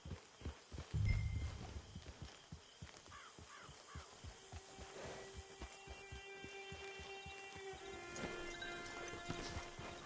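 Horse hooves clip-clop at a steady walking rhythm in the video game Red Dead Redemption 2, a continuous run of even hoof falls with a low thump near the start and faint game ambience.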